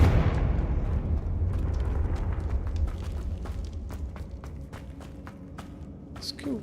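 A Confringo fire spell exploding in Hogwarts Legacy, opening with a loud rumbling blast that slowly decays, followed by a scatter of sharp crackling pops and debris clicks fading over several seconds.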